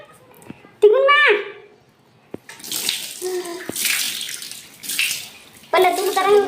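Running water gushes in loud bursts while something is washed outdoors, alternating with quieter moments where people talk.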